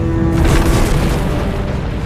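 A massive asteroid impact blasting out a crater 160 kilometres wide, heard as a sustained deep roaring boom with rumbling low end that stays loud and steady throughout, with no voices.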